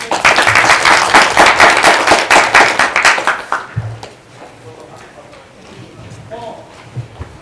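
Audience applause at a career mentoring talk, loud rhythmic clapping for nearly four seconds that quickly dies away into a quiet room with scattered faint sounds.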